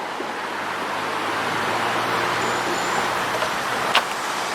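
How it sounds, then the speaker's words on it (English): The flooded Des Plaines River, running fast and high during a July flood, gives a continuous broad rushing roar of moving water with a faint low hum beneath and a short sharp knock near the end. "And you can see how fast this water is going."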